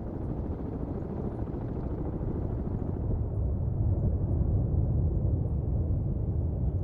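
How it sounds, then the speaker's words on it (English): A deep, steady helicopter rumble in the game Cold Waters drones throughout, low and heavy, swelling slightly louder toward the end with no talking. "Yep, there's helicopters."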